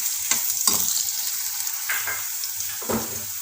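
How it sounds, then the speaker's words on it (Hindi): Chopped onions sizzle in a hot pan while being browned for an Indian aloe vera sabzi, with a steady frying hiss broken by several distinct scraping stirs of a spoon against the pan. "प्याज को ऐड करके हम इसे थोड़ा सा ब्राउन होने तक, गोल्डन ब्राउन होने तक भून लेते हैं।"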